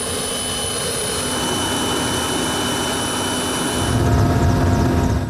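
Army helicopter in flight carrying a patrol toward Puerto Victoria in Putumayo, its steady loud rotor and turbine roar continuous throughout, swelling slightly near the end, with no voices.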